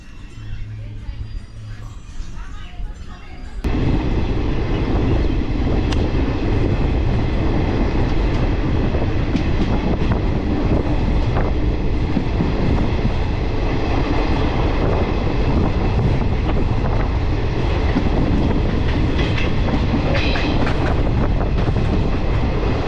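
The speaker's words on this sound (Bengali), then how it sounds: "আর এই চৌড়িগাছা থেকে আমাদের ট্রেন ছেড়ে দিল" A passenger train on the Sealdah to Azimganj line pulling away from Chowrigacha station: after a quieter start, a loud, steady rumble and rattle of wheels and carriages continues close by, with voices talking underneath.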